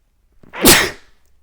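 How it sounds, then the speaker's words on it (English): A single loud sneeze bursts out close by, brief and sharp. "I'm about to sneeze"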